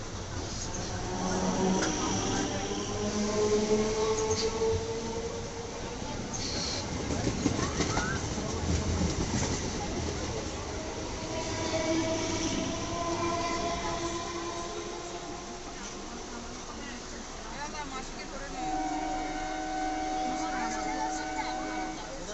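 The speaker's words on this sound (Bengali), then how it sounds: "দেখো পাশ দিয়ে একটা কি সুন্দরভাবে ট্রেন যাচ্ছে, দেখতেও বেশ ভালো লাগছে।" A train rolls past alongside a halted train at Kankinara station, a steady rumbling rush with tonal squeals and horn-like notes, while people chatter in the background.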